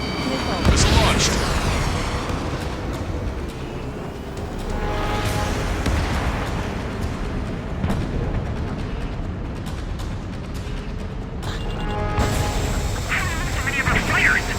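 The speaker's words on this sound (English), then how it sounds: "Missile launched." A missile launch in the jet-combat game Ace Combat 7: a loud, sustained roaring rush with heavy booming rumbles, set under a dense music score and radio-style voices talking over it.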